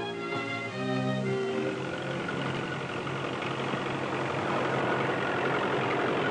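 A 1940s farm tractor engine runs steadily, a low, dense mechanical drone with an uneven start that settles into a continuous idle-like throb, close and fairly loud with no talk over it.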